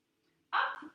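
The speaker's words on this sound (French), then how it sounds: "Et le chien qui n'est pas content." One short, muffled bark from an unhappy dog, faint and somewhat distant in a quiet room.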